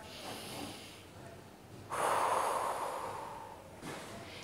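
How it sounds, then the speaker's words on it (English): Deep breaths in and out during a productivity talk: a steady breath flows through the first seconds, then a louder, longer exhale rushes out, and another breath follows, all close and clear with no speech. "just taking three really deep breaths."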